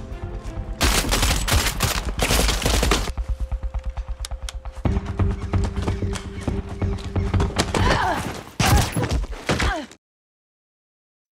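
Bursts of gunfire in an action film scene, loud and repeated across most of the span, mixed with dense score and effects, ending abruptly in silence.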